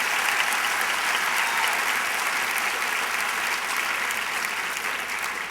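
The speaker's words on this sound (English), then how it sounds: "Let's give them another round of applause." Sustained applause from a large audience at a women's leadership forum, dense clapping at an even level throughout with no voices standing out.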